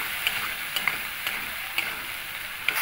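Long strips of tomato hit a hot pan while fish curry is being cooked, giving a steady close sizzle and hiss dotted with small sharp pops, with no talking.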